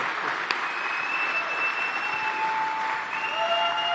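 Rally crowd applauding at a political rally in Juneau, Wisconsin: dense, steady clapping with cheers and whistles fills the whole stretch, a sharp single clap standing out near the start.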